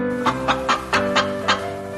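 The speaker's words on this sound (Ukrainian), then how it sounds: "Курка каже ко-ко-ко." Six evenly spaced hen clucks sound in a steady rhythm over sustained music, short bright pulses repeating about every quarter second, in a Ukrainian children's cartoon.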